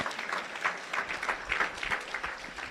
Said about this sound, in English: Put your hands together and give me a round of applause